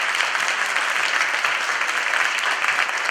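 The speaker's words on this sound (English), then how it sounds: "So one more time, let's give a big round of applause." A class audience gives a round of applause after a presentation, a short, even burst of many hands clapping at moderate loudness with no talking.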